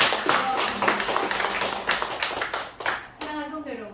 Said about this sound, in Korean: 우리를 불러주시고 영광받으신 하나님께 박수로서 영광을 올려드리겠습니다